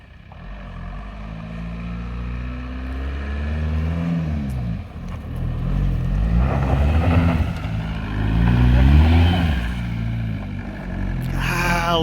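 A car engine running after an engine swap, a loud, rough idle with several rising and falling revs up close, plus a brief clatter at the end.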